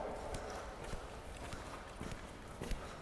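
An Olympic mare canters in an arena during flatwork training, her hooves thudding in a steady, rhythmic clip-clop close by with no talking.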